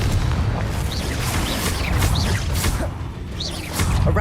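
A fiery explosive Confringo spell blast from the video game Hogwarts Legacy: booming impacts and whooshing bursts repeat over a continuous loud rumble of combat effects.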